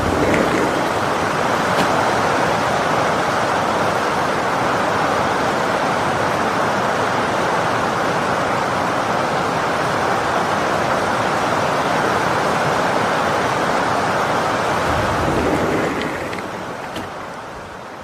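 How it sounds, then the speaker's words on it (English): Loud, dense roar of heavy rain pouring outside through an open glass door, constant for about fifteen seconds before dropping off sharply near the end. "You can hear the rain outside. It's super, super loud."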